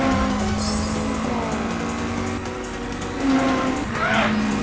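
Racing cars from the Initial D arcade game roar continuously at close range, engines droning under repeated tire squeals and skids, with a sharper screech rising near the end.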